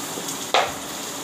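Masala and sandge frying in a pan on full gas, a soft steady sizzle with one sharp burst of hiss as the mixture is stirred or dropped in, close and alone.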